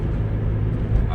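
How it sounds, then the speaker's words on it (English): A low, steady road rumble fills the cabin of a moving car, dense and constant with no break. "you hear the car noise"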